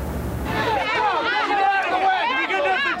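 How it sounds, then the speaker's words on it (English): Chaotic crowd at a candlelight memorial vigil in Dorchester turning violent, with raised shouting voices and commotion close by, dominated by overlapping yelling. "Chaos erupts among a crowd of grieving family and friends in Dorchester."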